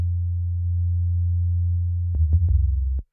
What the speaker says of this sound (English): most chances it's going to be a sine wave bass.